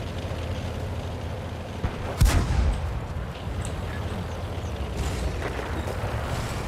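Tank gun shots in a World of Tanks-style battle game, with a sharp booming report around mid-clip and fainter distant blasts later, set over steady battlefield rumble.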